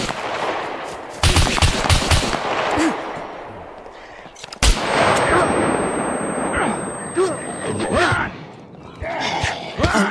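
Gunfire in the survival video game SCUM: repeated loud bursts of automatic shots and single cracks in two main volleys, with sharp impacts and shorter pops between them and game sounds filling the gaps.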